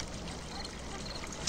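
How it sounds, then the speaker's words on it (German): Water pours steadily into a bucket in the Vampire Legends adventure game, a continuous broadband rush that holds level for the whole moment and swells slightly at the end. "füllen wir noch den Kübel mit Wasser"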